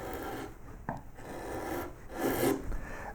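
A wood gouge takes fine cuts to remove ridges from a carved wooden surface, a close, quiet rasping scrape in several strokes with short pauses between them.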